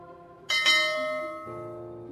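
A bright bell chime rings twice in quick succession, then a lower tone follows, each ringing out and fading clearly with no talking.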